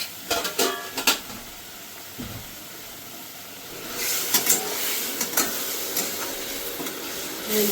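Spice masala with green chilli and a little turmeric sizzling and being stirred in a pan, with scraping strokes and bursts of crackle coming and going, close and moderately loud.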